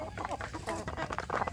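Native village hens (ayam kampung) in a coop cluck and squawk in quick, overlapping bursts, close and fairly loud over a brief moment.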